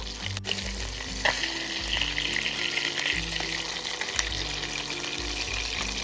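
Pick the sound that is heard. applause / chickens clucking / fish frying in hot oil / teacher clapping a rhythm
fish frying in hot oil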